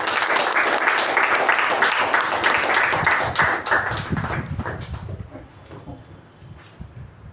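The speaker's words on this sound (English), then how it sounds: "With a huge round of applause, please welcome Toastmaster Ujwal, our president." A Toastmasters club meeting audience claps warmly to welcome the club president, with a loud, dense round of applause that thins and fades out over its last seconds.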